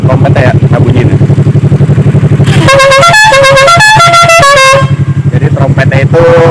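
A Suzuki Inazuma bosozoku motorcycle's trumpet horn blares a loud multi-note melodic tune over the idling engine, which rumbles alone before and after the horn.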